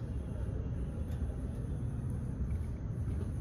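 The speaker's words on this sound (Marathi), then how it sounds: "थ्री सिलेंडर इंजिन गाडी आहे ही" Steady low rumble of a Ford EcoSport three-cylinder engine idling, fitted with a Lovato CNG kit, heard close and continuous with no talk over it.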